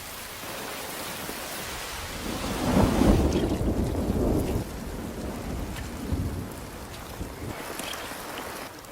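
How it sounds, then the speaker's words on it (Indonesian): A low rolling rumble of thunder swells and fades over the steady hiss of heavy rain, with no voices. "Mendengar suara guguludugan yang menandakan akan segera hujan"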